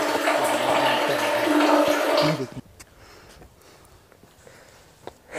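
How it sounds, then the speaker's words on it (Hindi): Water rushing and splashing loudly inside a water tank for about two seconds, then cutting off abruptly, leaving faint trickles and drips in a quiet background. "इधर से आवाज़ आ रही है पानी की, मैं आपको सुनाऊँ।"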